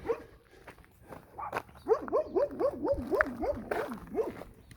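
Small dogs barking behind a fence in Zapata, Texas, after a big dog outside the fence alerts them: a rapid run of sharp, evenly spaced yaps at mid distance, fairly loud, with no talk over them.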